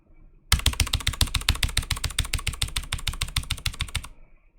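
Rapid, loud, relentless keyboard mashing while playing the Thunderbreaker class in MapleStory: dense, evenly spaced key clacks hammering continuously for several seconds, close up and with no talk.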